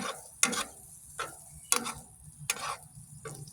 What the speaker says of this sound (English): I'm gonna mix them all together.